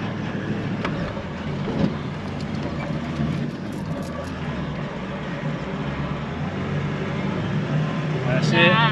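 4x4 driving over sand dunes, a steady low engine drone and cabin rumble heard from inside the vehicle, with people talking over it.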